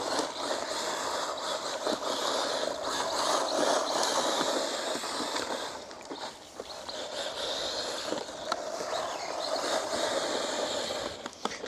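Rlaarlo XTS F10 V3 RC rally car tearing across gravel, a constant buzzing motor whine mixed with crunching, scattering stones, dipping briefly midway before surging again.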